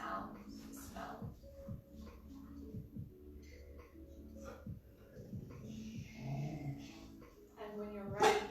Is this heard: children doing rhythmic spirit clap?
no